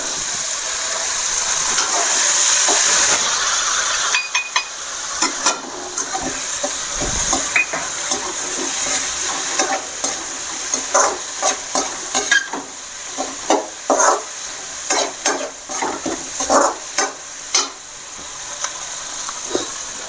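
Onion and masala frying and being stirred in a pan for masala egg podimas, a steady close sizzle and hiss with repeated scraping stirs, no talk.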